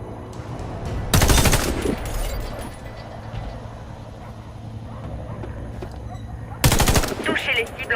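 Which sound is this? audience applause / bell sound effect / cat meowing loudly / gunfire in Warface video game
gunfire in Warface video game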